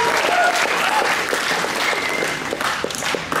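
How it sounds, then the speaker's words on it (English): A church congregation bursts into warm, dense applause that stays loud and then thins out toward the end, with a few scattered voices underneath. "Give yourselves a round of applause."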